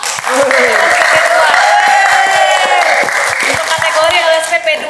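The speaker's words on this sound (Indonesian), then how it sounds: "Tepuk tangan dong." Applause from an audience at a Samarinda vocational training podcast, honoring an award win, swells as a steady wash of claps with scattered whoops, mixed with music and a voice speaking over it throughout.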